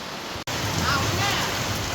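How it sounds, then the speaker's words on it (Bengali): Heavy rain pours down suddenly in a loud, steady broadband hiss that stays constant throughout, broken only by a momentary cutout near the start. "কি বৃষ্টি!"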